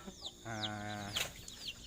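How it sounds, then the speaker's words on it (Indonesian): Free-range Indonesian village chickens in the rainy season, several short clucks nearby around one drawn-out, tuneful call in the middle, with no talking. "ini ayam-ayam saya yang kemarin ada"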